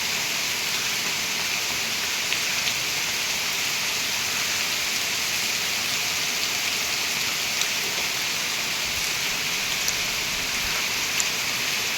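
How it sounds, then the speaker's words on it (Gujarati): Heavy rain pours down steadily for the whole stretch, a dense, even hiss with no pauses and no voices. "જોઈ શકો છો કેટલો વરસાદ છે."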